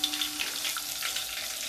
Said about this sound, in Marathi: कढीपत्ता तुम्हाला जेवढा पाहिजे तेवढा, मिरची चांगली तळू द्या।